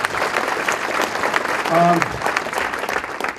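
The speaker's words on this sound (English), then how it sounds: "I'd like to give them a round of applause" Audience applause at an annual museum meeting, a dense wash of clapping filling the room for several seconds, with a brief voice rising through it midway.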